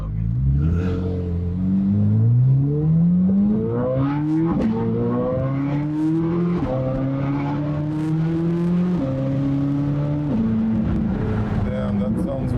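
A 2020 Chevrolet Corvette with a 6.2-litre V8, a rebuilt car, accelerating through several gears, each pull rising in pitch before dropping at the next upshift, loud and close, with voices talking over it.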